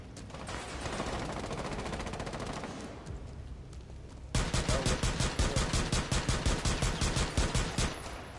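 Gunfire in a video game, with dense continuous shooting at first, then a loud, rapid, regular string of pistol shots about a third of a second apart, close and alone.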